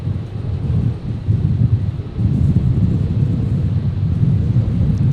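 Jet aircraft landing at Brisbane airport in a crosswind, a steady low rumbling roar mixed with wind noise on the microphone, rising slightly partway through and holding constant to the end.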